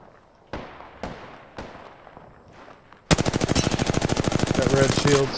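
Video game gunfire: a few sharp single shots, then a sustained loud rapid automatic burst.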